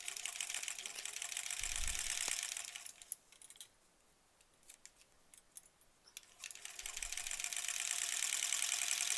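An old, heavy sewing machine stitches through a foundation-pieced quilt block, its quiet chugging whir running steadily, stopping for a few seconds of near silence, then starting up again.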